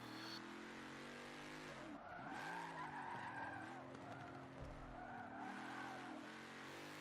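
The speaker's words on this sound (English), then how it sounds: "I'm doing the drifts" A car drifting in the Forza Motorsport 7 racing game, tires squealing in long sustained skids over a steady engine drone, the pitch bending as the slide shifts, with no talking.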